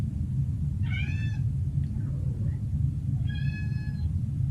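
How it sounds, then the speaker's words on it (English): A house cat meows twice, each call a short clear cry about two seconds apart, heard close over a steady low rumble in an indoor room. "sorry, that's my cat"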